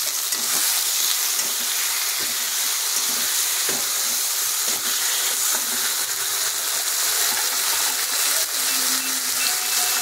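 Tomatoes hit hot oil in a pan with a garlic, ginger, dried chilli and cumin paste for boal fish kalia, setting off a bright, steady hiss and crackle that holds for the full stretch, with occasional stirring clicks.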